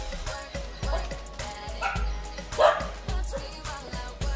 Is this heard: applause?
no